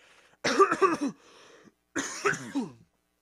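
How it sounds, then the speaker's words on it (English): A man clears his throat twice, two short harsh rasping bursts close to the mic with a brief pause between them and quiet around. "Just let me clear my throat a second."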